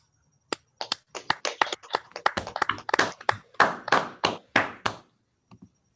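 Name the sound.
audience clapping after seminar talk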